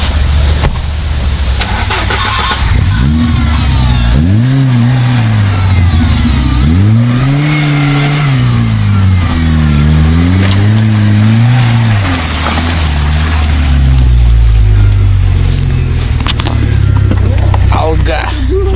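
A Lada Niva off-road car's engine revs and labors through deep autumn mud ruts, loud and close, pitch rising and falling in repeated surges while people talk over it.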